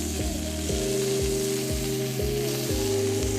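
Salmon fries skin-side down in a pan with a steady, close sizzle that holds throughout, under a layer of tonal background music.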